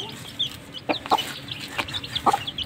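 Mother hen teaching her chicks to eat, giving soft, scattered clucks at moderate distance over a quiet outdoor background.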